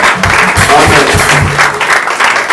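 A church congregation claps together in a dense, loud, continuous burst of applause, close and filling the room throughout, with some crowd voices mixed in.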